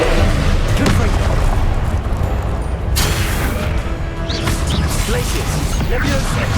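A Confringo spell explodes in the Hogwarts Legacy video game amid a loud, dense wash of booms, crashes and combat effects, with a sharp burst near the midpoint and rumbling impacts throughout.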